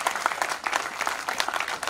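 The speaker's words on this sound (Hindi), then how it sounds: "एक बार जोरदार तालियां माने मुख्यमंत्री के लिए" A live audience bursts into loud, dense applause for the chief minister, sustained clapping filling the space with steady energy and no pauses.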